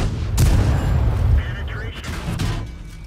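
Heavy cannon shells slam into an armored tank in World of Tanks, a loud booming impact followed by a second hit, with a rumbling low-end wash and game effects.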